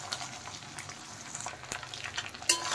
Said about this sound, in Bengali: দেখেন ডিমগুলো কিন্তু ভালোভাবে ভাজা হয়ে গেছে